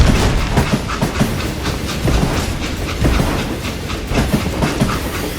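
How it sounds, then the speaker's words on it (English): Train rolling along in the Western action game Gun, a steady loud rumble with repeated clickety-clack wheel beats across the whole stretch, no voices. "It was then that Jesse detached the express car from the rest of the damn train"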